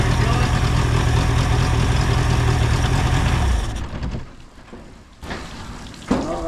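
A Mariner 60 hp outboard motor idling steadily with a loud, even rumble for several seconds, then dropping away to a quieter, uneven sputter with a few abrupt bursts.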